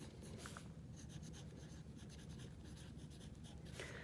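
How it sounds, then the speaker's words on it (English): Pen writing at the top of a page in a classroom lesson on small moment stories, a steady faint scratching of strokes on paper that runs continuously, close and alone with no talk. "I'm going to write at the top, small moment,"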